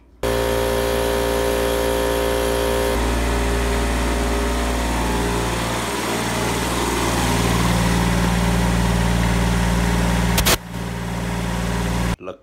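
A weed whacker strung with speaker wire in place of trimmer line runs at a steady, loud whine with a harsh motor buzz, pitch shifting slightly midway, then cutting off abruptly near the end.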